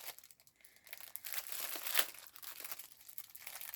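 Crinkling plastic packaging of a subscription box being pulled and torn open by hand, close and fairly quiet, with irregular bursts of crackling and one sharper rip near the middle.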